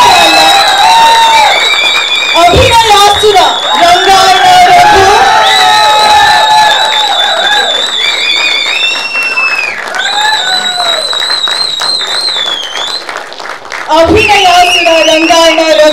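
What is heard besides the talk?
loud applause and cheering for Rangayana Raghu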